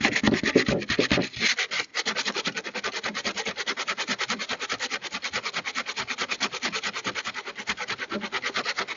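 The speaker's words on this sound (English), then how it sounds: "So I'm going to start sanding this area here, and then we'll move to the higher grit sandpaper and then paint it." Sandpaper rubs by hand over a damaged plastic car bumper cover in quick, even back-and-forth strokes, a close, steady scratching rhythm that keeps going without pause.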